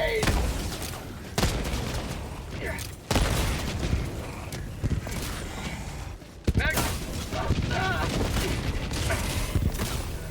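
Bursts of rapid gunfire and a heavy grenade blast in a combat video game, loud cracking volleys separated by brief pauses, with game voice lines mixed in.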